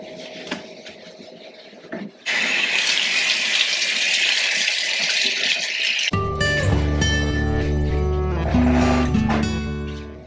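Kitchen sink scrubbed with Comet bleach cleaning powder, a steady broadband scouring rasp that runs loud and close, then gives way to a strong rush of tap water rinsing the basin, with no voices.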